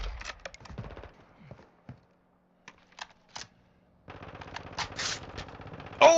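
Video game gunfire, rapid bursts of shots at the start, a few scattered single cracks in a quiet stretch, then a dense burst near the end, close and crisp.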